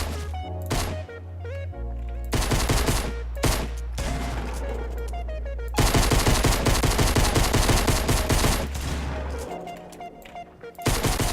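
Rapid video game gunfire, dense volleys of machine-gun bursts and single shots repeating over several seconds, loud and continuous with brief gaps, with thumping music underneath.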